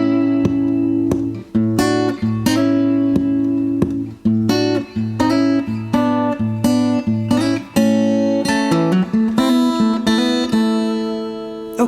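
Fingerstyle gospel blues guitar played solo, with plucked double-stop licks, fills and chord embellishments ringing over a steady bass line, close and clear with no voices.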